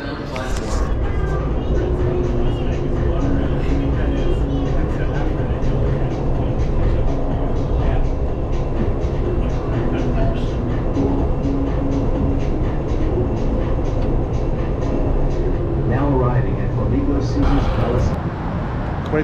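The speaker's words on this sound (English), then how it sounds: "I'm gonna do the monorail." A Las Vegas monorail train ride heard from inside the car: a steady, loud rumble and rolling hum with faint clicks and squeals, continuing for the whole stretch while people talk over it.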